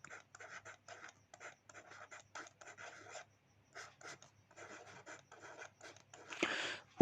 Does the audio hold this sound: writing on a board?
yes